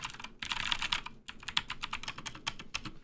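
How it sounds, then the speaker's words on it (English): Fingers type on a Keychron K4 mechanical keyboard with blue switches, a close, crisp run of clicky keystrokes in uneven bursts with a brief pause about a second in. "So this is the sound of this keyboard."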